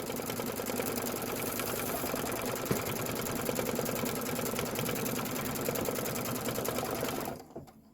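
An embroidery machine stitches a Kimberbell Main Street Celebration General Store block on foundation fabric, a fast, steady mechanical chatter that runs evenly and close, then stops abruptly just before the end.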